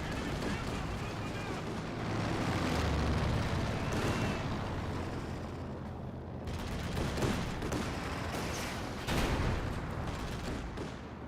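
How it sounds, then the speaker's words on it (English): Artillery and a strafing run rain down in Company of Heroes 2, a continuous barrage of booming explosions and rapid gunfire bursts layered densely together, with a commentator talking over the battle throughout. "Some sort of artillery being some there, looks like a strafing run."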